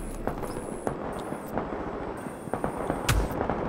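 Gunfire in the video game The Division comes as a burst of sharp, crackling shots at uneven intervals, fairly loud against a busy electronic background, with no talk.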